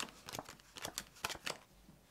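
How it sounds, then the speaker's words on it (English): Playing cards riffled together in a perfect out faro shuffle, a quick run of crisp, close flicking and snapping bursts in an uneven rhythm. "just do a perfect out pharaoh shuffle like this"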